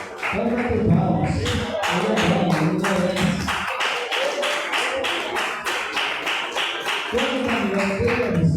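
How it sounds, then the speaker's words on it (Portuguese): Congregation clapping together during a church worship service, a steady run of close, rhythmic hand claps that starts under voices and continues alone for several seconds. "Vamos bater palmas."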